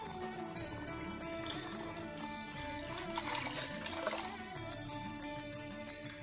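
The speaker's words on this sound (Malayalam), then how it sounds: "അതിൽ രണ്ടാം പാലാണ് ഇപ്പോൾ ഒഴിച്ചു കൊടുക്കുന്നത്." Thin second-extract coconut milk pours quietly into a pot of banana and broken-wheat payasam, a soft continuous splashing and trickling of liquid with faint drips.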